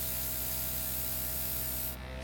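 A Liberty airbrush sprays a continuous, even hiss of air and paint that holds steady and close, then thins slightly near the end, with no talking.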